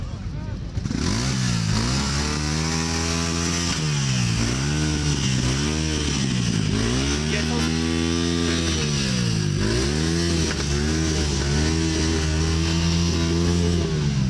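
Loud motorcycle engines revving close by at a holiday motorcycle rally in Stalowa Wola, Poland, the pitch repeatedly climbing and dropping in throaty waves, with a crowd murmur underneath.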